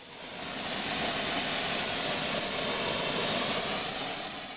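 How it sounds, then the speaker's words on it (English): Hot chasing pitch, overheated while filling a repoussé relief, gives off a steady, close sizzling hiss of small bubbles that holds evenly the whole time. "You can tell when the pitch is getting a little bit too warm when a bunch of small bubbles form in a kind of sizzling"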